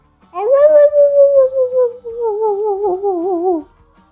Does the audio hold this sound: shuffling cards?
no